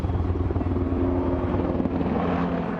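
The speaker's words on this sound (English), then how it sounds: "Helicopters thundering overhead, dropping water again and again on the fast-moving Sandy fire" Firefighting helicopters fly overhead at the fast-moving Sandy wildfire, a continuous loud, rumbling rotor drone with no talk.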